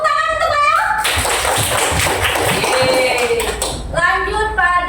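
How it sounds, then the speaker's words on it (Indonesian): A classroom of students claps hands in a brief burst of close, dense applause that fades after a few seconds, framed by other sounds at the start and end. "Tepuk tangan untuk saya."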